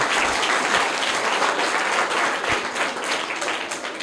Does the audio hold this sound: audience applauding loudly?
yes